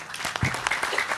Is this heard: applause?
yes